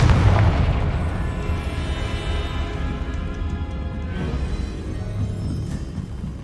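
A deep, booming blast from the Confringo fire spell in Hogwarts Legacy rolls out and lingers under game ambience, with a second, softer rumble a few seconds later.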